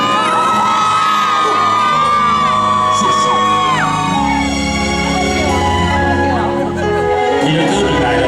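A concert crowd at an evening temple-square show in Tainan shouting together on cue, a loud, dense wall of screams, whoops and cheers that holds for about eight seconds, close and overwhelming.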